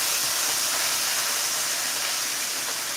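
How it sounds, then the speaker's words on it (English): Continuous loud sizzling hiss, like fish frying in hot oil, steady and close with no talking. "So my fish is frying while I talk to you a little bit."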